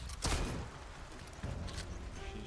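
A gun fires in the video game Atomfall, one sharp shot near the start and a softer burst later, backed by low game noise.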